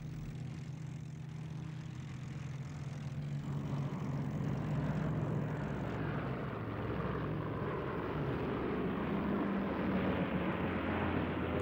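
Japanese WWII propeller aircraft engines drone steadily during an attack on American carriers near the Philippines, a loud continuous roar with a low hum beneath, slightly shifting in tone throughout.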